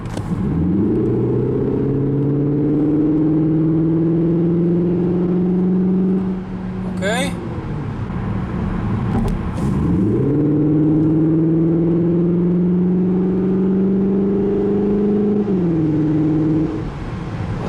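A 2021 Cupra Leon ST plug-in hybrid (245 hp) revs up steadily under hard acceleration, rising in pitch, pausing briefly at a gear change, then climbing again with a smooth, loud drone.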